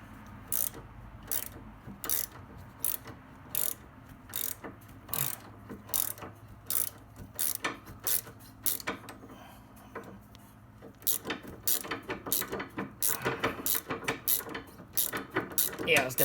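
Ratchet clicking steadily on a Loctite-threaded sway bar bolt of a Honda Fit GK, a long run of sharp, evenly spaced close clicks that speed up and crowd together toward the end, with no talk over them.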